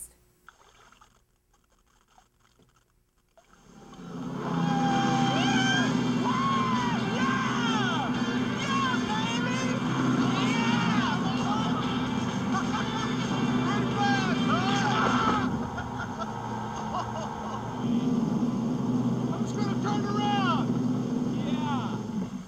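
A speedboat with an Evinrude E-Tech outboard engine swells in from near quiet to a loud steady engine drone, with wind and water rush and excited crowd voices over it.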